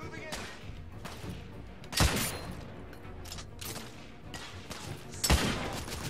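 Gunfire in the video game The Order 1886, two heavy shots standing out among scattered smaller bursts and thuds, all under an ongoing mix of game noise.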